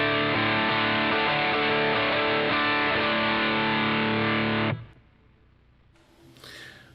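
A heavily distorted electric guitar through a Line 6 Helix amp modeler rings out in thick, sustained chords for several seconds, then cuts off abruptly, leaving a faint noisy tail.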